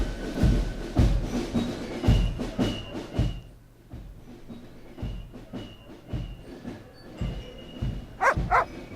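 Dog barks in the Broken Sword 2.5 adventure game, several short loud barks in bursts over game music and ambience, with a quieter gap midway before more barking.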